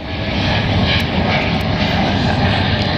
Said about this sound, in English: the trains and the planes all mixed into one